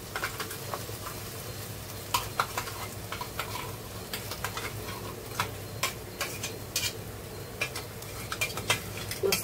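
Ground paste goes into onions already frying red with garlic and ginger paste, for a spicy chicken leg curry; a constant sizzle sits under sharp clicks and scrapes of a spoon stirring against the pan.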